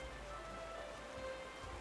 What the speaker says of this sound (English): Rain's a lot in this game.